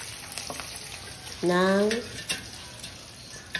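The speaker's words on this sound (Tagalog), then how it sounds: "Kaya, deep fry natin." Pork chips hitting hot oil for deep frying, a steady close crackling sizzle with a brief louder tonal swell as they go in, a voice speaking briefly.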